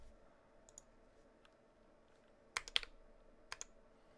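Close-up typing on a Drop Alt high-profile mechanical keyboard fitted with Gateron Yellow switches: sparse, quiet clicks over a near-silent background, then a quick cluster of several keystrokes and a final pair of taps, with no talking.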